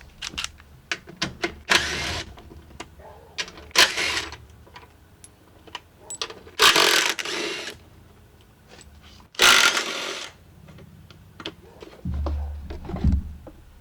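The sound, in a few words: power tool removing bolts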